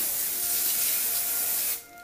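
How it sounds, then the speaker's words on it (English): A hairspray aerosol hisses in one continuous burst, close and loud, for under two seconds before stopping abruptly. "And we're going to spray this"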